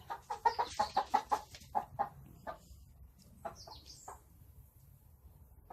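A small laying hen clucks in a quick run of rhythmic, close calls, then pauses before a few scattered softer clucks and chirps, with faint outdoor background and no speech.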